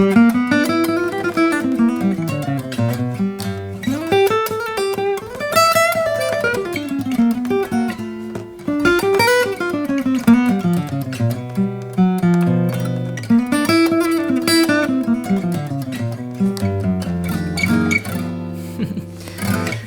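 A guitar plays a bluesy lead line on the Play the Blues scale, with sliding, bending phrases that rise and fall over about twenty seconds. It is played alone at an even volume, with no speech.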